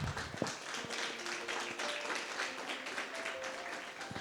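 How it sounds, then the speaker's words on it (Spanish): A church congregation applauding during a service, a steady spread of many hands clapping at moderate loudness, with faint tones and a voice in the background. "Denle un fuerte aplauso al nombre del Señor."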